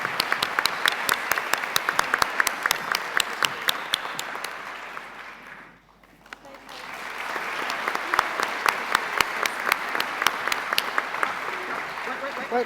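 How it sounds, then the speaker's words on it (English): An audience claps for a nursing award winner at a trailblazer award ceremony, close sharp claps with cheering; the applause dips briefly to near quiet midway, then swells again and continues. "please, one more round of applause for our winner"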